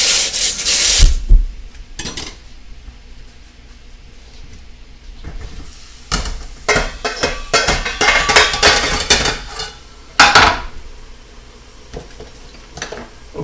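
Beef and onions are stirred and tossed in a pan for a beef and broccoli stir fry, giving scraping, rubbing utensil strokes and occasional clanks over a low sizzle, uneven and close, with no talking.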